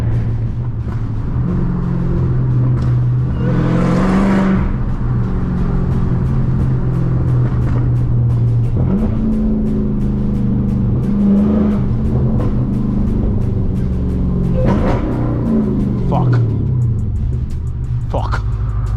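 A 1000hp Dodge Hellcat Redeye revs hard with its wheels spinning without traction, a loud, close, roaring engine drone rising and falling in surges while people talk excitedly over it.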